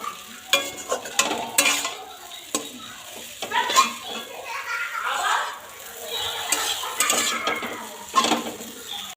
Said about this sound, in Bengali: তো এবার এই মশলাটা দিয়ে নাড়াচাড়া করে নেব।